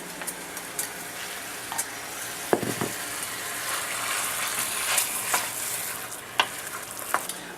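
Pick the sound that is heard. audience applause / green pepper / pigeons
green pepper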